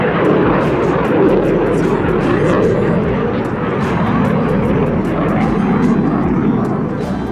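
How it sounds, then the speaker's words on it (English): An F-15 fighter jet flies past at AirVenture with a loud, continuous roaring rush of engine noise that fills the whole stretch, with people audible in the background. "And there goes another F-15."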